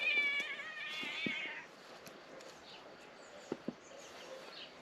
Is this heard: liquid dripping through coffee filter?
no